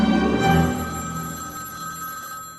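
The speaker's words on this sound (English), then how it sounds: "벤은 호텔에 있는 자신에게 전화하여" A telephone bell rings in a sheriff's station in an SF thriller film, one loud metallic ring that decays slowly and is heard alone.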